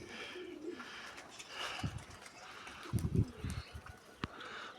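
Low, soft cooing of an old pigeon, about ten years old, repeated a few times, close by, over quiet background noise.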